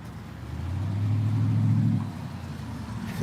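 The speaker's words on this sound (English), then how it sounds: "This loud white car driving out in front of me" A loud white car drives past close by on a street, its engine a steady low rumble that swells to a peak around the middle and then eases off.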